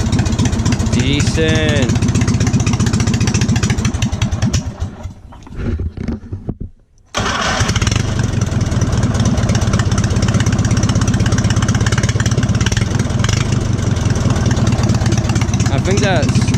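A tractor engine runs steadily and loud nearby, with a short dip to near silence partway through before the engine noise returns; a person speaks briefly over it.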